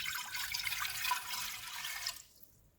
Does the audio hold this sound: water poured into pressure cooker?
yes